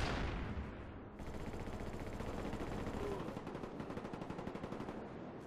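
Rapid automatic gunfire in a tactical team-based shooter video game, sustained loud bursts of machine-gun style shots with a sharp onset after a brief lull, rattling steadily throughout.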